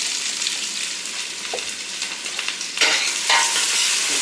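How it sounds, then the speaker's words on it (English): Diced red onion sizzles steadily as it is stirred in a soup pot, a bright continuous frying hiss with a few louder scraping stirs near the end. "A nice little sizzle there."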